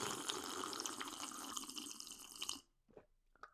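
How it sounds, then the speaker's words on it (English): Several people slurp a drink of water together, a steady hissing slurp that runs for over two seconds and then stops sharply, followed by a few faint small sounds. "let's all enjoy the synchronized slurp"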